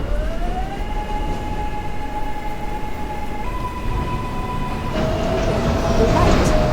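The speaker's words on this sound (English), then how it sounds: "This is a financial district-bound B train." Metro B subway train in a station with doors closing: a loud steady electronic tone sequence over rumbling train noise, then a shift in pitch as the doors shut and the car hums on.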